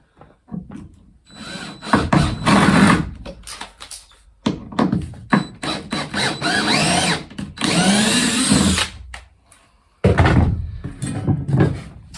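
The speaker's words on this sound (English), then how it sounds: "I've just pre-drilled that." A power drill pre-drills holes in wood while fitting out a narrowboat. It whirs loudly in repeated bursts of varying length with knocks and handling clatter between them, close by.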